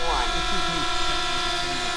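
A DJI drone flies an asteroid quick shot backwards past a helicopter, giving a steady, tonal motor whine that holds throughout the two seconds while a person talks over it.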